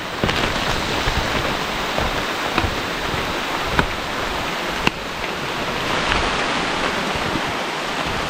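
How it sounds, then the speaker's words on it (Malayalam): Rain falls steadily through forest along a trek in Shendurney Wildlife Sanctuary, a dense, even hiss of drops with a few faint taps and knocks, and no voices. "മഴ സ്റ്റാർട്ട് ചെയ്തിട്ടുണ്ട്"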